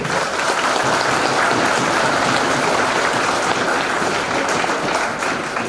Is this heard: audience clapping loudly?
yes